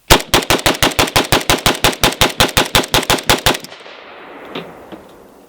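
Hungarian AK63D rifle built by Century Arms, a fast string of about twenty loud, evenly spaced shots in full rhythm, ending abruptly with a short echoing tail and a faint clink afterward.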